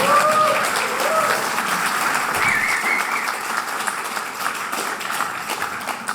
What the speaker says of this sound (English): Big applause for David, please.